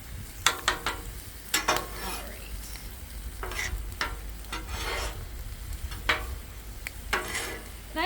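Eggs cook on a hot Blackstone griddle, giving a soft steady sizzle broken by repeated scraping and stirring strokes from a spatula at close range, with no talking.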